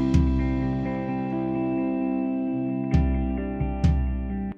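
Several tom drum hits sound with sustained tonal ringing, a few sharp strikes spaced across the clip, fairly loud and close.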